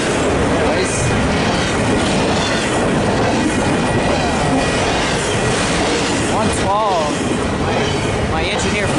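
A freight train passes a crossing on a windy day, close and loud. A continuous heavy rumble carries rhythmic wheel clacking and brief wheel squeals throughout.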